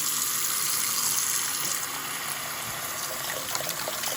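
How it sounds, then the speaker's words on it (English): Water runs steadily from a bathroom tap in a continuous broadband hiss and splash that holds fairly constant and close, with no voices. "let's go ahead and get some water running in here"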